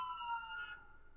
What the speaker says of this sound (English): it's not a cop. It was an ambulance.